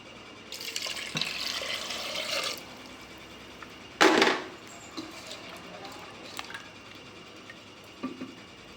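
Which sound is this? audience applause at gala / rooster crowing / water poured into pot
water poured into pot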